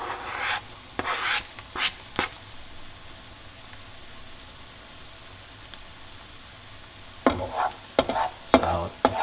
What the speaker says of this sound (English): Now you cook the onions for about a minute or so before you add in the garlic.